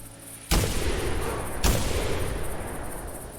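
A hunting rifle fires twice in the game theHunter, two sharp, loud reports about a second apart, each trailing into a long rolling echo over steady outdoor ambience.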